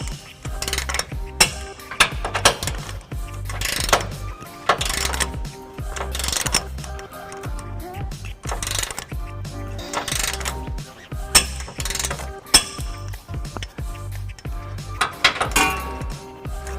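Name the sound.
ratchet tightening trailer hitch bolts on Nissan Titan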